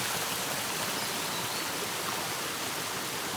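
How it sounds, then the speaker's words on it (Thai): Steady, broad rushing of falling water at the lower tier of Ari Doi Waterfall fills the air, a constant hiss and roar with no pauses, loud and close. "ตอนนี้นะครับเราก็อยู่ที่น้ำตกอารีดอย ชั้นข้างล่างนะครับ"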